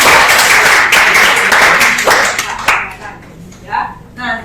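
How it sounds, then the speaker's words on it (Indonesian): A classroom claps for a group of students, loud and close for a couple of seconds, then tapers into scattered claps and voices. "tepuk tangan dulu untuk kelompok"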